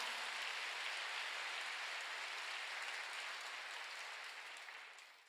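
A church congregation claps together, a dense steady wash of applause that fades slightly toward the end.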